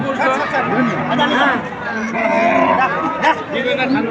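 Cows low amid the crowd at a village cattle market in Notunhat, Joypurhat. The moos mix with close talking and steady crowd chatter throughout.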